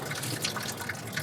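Coolant drains from the radiator of a 1977 Ford F250 with a continuous trickling, splashing wash of liquid, close and steady for a brief moment.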